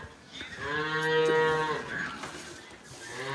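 A single long, deep moo from a Holstein Friesian cow in a cowshed, rising and fading over a few seconds, fairly close, with faint background noise.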